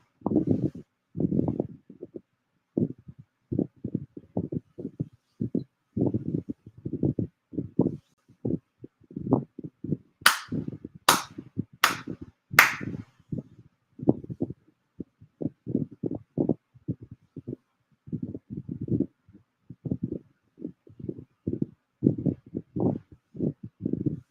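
Four crisp ritual hand claps ring out in quick succession during a monthly Shinto-style Tenchi Kane no Kami ceremony, set amid a long run of softer, rhythmic low knocks and thuds before and after.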